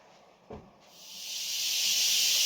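Vegetables frying for a Ukrainian zazharka in a pan, a sharp clack followed by a steady hissing sizzle that swells and keeps building, fairly close and alone without talk.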